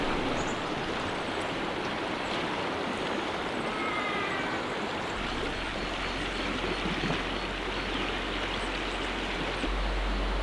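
The flooded Turon River rushes in a continuous broad roar of flowing water, steady and fairly close, with a low rumble beneath throughout.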